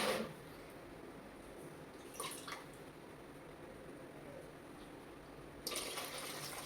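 Butter being washed in water while making homemade ghee, heard as quiet sloshing with a couple of brief louder splashes, otherwise near silence.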